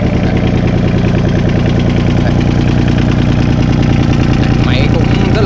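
A mini excavator diesel engine runs at a steady, loud idle with a constant low rumble and knocking texture, and the engine note carries on without a break.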